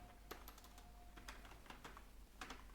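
Soft keyboard typing with uneven bursts of clicking keystrokes as a message is entered into an AI chatbot, fairly faint and close, with no voices.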